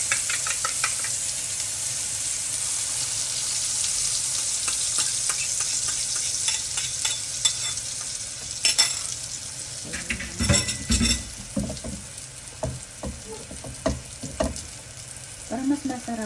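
An egg frying in a pan at breakfast, a steady bright sizzle throughout, joined later by stirring, scraping and light knocks of a utensil against the pan.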